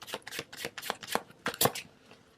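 Tarot cards shuffled by hand in a steady series of quick, crisp riffling bursts, close and fairly soft, with no voice over them.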